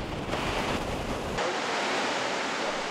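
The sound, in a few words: waterfall roaring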